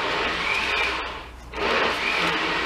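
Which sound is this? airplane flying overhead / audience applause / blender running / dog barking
blender running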